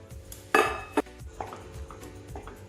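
A metal spoon scrapes and knocks against a kadhai while gram flour roasts in ghee on a low flame. A few sharp clanks and scrapes sound close by against a quiet background, with no talking.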